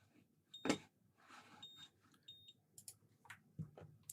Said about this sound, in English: This beeping's annoying.